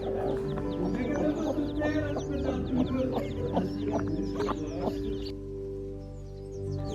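Broody hens and two-day-old chicks cluck close by, with repeated short clucks and soft peeps over a steady low background hum. The calls stop near the end and only the hum remains.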